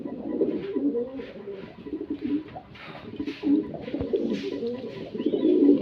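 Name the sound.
Danish pigeons cooing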